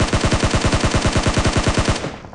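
Rapid automatic gunfire from the video game PUBG Mobile fills the sound, a loud, steady burst of about twenty evenly spaced shots that stops abruptly and leaves a short fading tail, with no voice over it.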